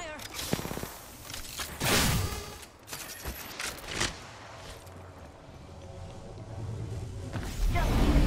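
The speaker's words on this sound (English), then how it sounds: "Listen up, I'm getting shot at. Taking fire." Video game gunfire cracks out in a few sharp shots and short bursts over a rumbling background, with louder swells near the start and end.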